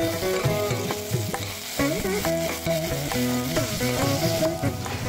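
Cashews, green chilies, onion pieces, curry leaves and ginger-garlic paste fry in oil for masala aloo fried rice, a loud constant sizzle with stirring scrapes under background music.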